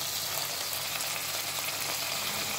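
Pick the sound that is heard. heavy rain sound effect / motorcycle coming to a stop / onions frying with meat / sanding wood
onions frying with meat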